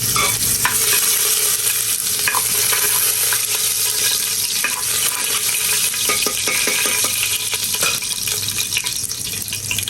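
Chopped garlic fries loudly in a pan as it is stirred while cooking vegetables, a constant close sizzle overlaid with repeated scraping and stirring strokes, with no voices.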